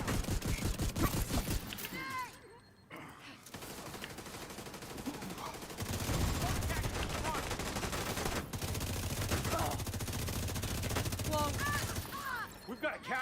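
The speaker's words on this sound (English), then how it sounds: "Let's get a turret out." Sustained rapid fire from a deployed turret in a PvE video game rattles on for many seconds, dense and continuous, with voices talking over it now and then.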